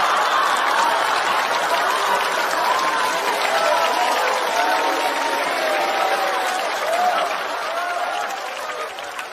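A studio audience at a stand-up comedy show breaks into dense, loud, continuous applause mixed with cheering, holding steady before easing off near the end, with no speech over it.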